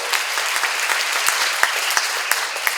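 An indoor church seminar congregation claps together in a dense, bright, even patter, with a few sharper isolated claps standing out near the end.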